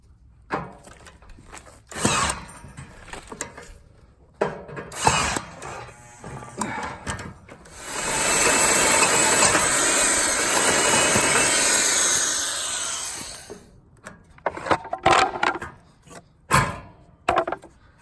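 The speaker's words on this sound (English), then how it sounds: "I'm going to take the drill and drill that out some" An old Black & Decker electric drill runs steadily for about five seconds, loud and close, bracketed by scattered knocks and handling clatter before and after.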